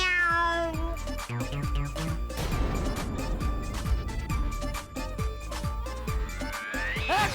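A voice imitates a cat's meow, with drawn-out rising and falling cries over a busy, rhythmic background of music.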